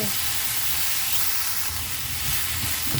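Fresh chilies dry-roasting in a pan for nam prik pla ra give off a steady, loud hiss and sizzle, continuous throughout with faint low clatter underneath.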